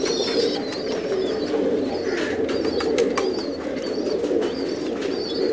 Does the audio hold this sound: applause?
no